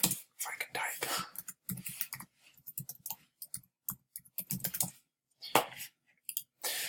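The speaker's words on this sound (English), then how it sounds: "If I can type." Computer keyboard typing comes in quick, uneven bursts of close clicks and taps separated by short pauses, with soft whispering mixed in.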